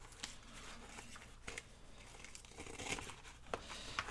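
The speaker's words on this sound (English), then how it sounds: "I need to cut a little of that off" Scissors snipping off excess ribbon while assembling a hinged-page handmade journal, a few soft cuts mixed with paper and ribbon crinkling, close and quiet.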